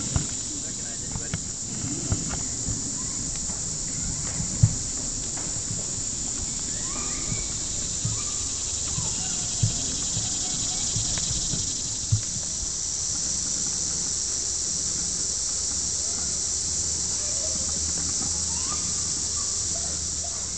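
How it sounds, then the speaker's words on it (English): A dense, steady buzzing hum of many honeybees in an open hive fills the scene, with faint scattered clicks and rustles throughout. "Almost like there's too many bees."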